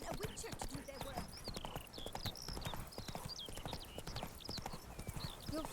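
Rapid galloping hoofbeats of a horse in The Witcher 3, close and steady, with birdsong chirping overhead and faint voices in the background.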